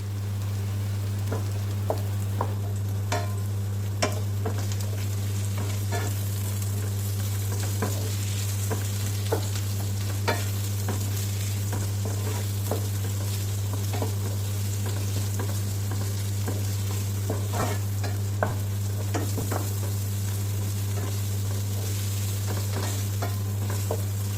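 Sliced onions sautéing in hot oil for non-vegetarian noodles: a steady, moderate crackle of frying, dotted with small pops and sitting over a constant low hum throughout.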